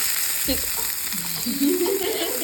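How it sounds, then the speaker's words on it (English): Onions frying in sunflower oil in a pan, a steady sizzle that rises and thickens as they hit the oil, up close with no talk. "now we're putting these onions into the oil"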